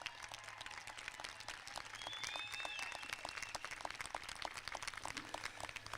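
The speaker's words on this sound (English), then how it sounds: "I think that deserves a huge round of applause." Graduation ceremony audience applauding the class, steady dense clapping heard from a distance, with a faint high whistle or cheer rising briefly in the middle.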